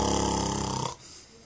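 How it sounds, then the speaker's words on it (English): Cartoon bear sleeping in a snowy cave gives a loud, rumbling snore for most of a second, a deep harmonic drone that cuts off abruptly, leaving only faint room noise. "Inside, a bear was snoring peacefully."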